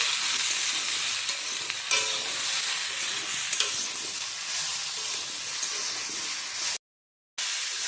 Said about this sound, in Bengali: আবারও ভালোভাবে নেড়ে চেড়ে নেওয়া হচ্ছে